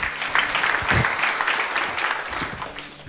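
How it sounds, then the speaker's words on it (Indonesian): Applause comes from the congregation at a Tuesday Bible service, a brief burst of many hands clapping in a hall that swells and thins over about three seconds. "Tepuk tangan."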